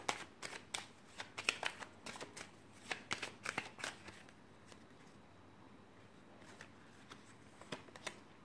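Tarot de Marseille cards being shuffled by hand, a run of crisp, quick riffling snaps and flicks, close and clear, denser in the first half and sparser later, with no talking.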